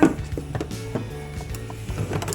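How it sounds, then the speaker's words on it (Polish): A plastic lid is handled and clicked shut on a Monsieur Cuisine Connect kitchen robot, with a few short knocks and rattles close by. "Zamykam pokrywę."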